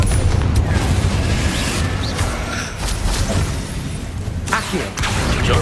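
A Confringo explosive spell cast in the video game Hogwarts Legacy lands with a loud booming burst and a whoosh, followed by a sustained heavy rumble and crackle, with a second sharp hit near the end.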